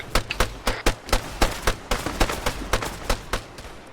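Arma 3 gunfire with service rifles and a 12.7 submachine gun, rapid overlapping cracks in irregular bursts, loud and close, with no voices.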